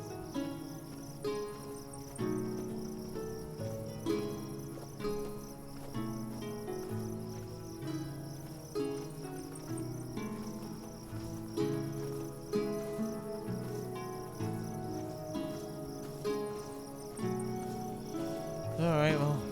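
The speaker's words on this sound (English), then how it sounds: "it's nice hearing crickets" Crickets chirp in the video game Tainted Grail, a steady insect trill running under game music with melodic tones and occasional louder accents throughout.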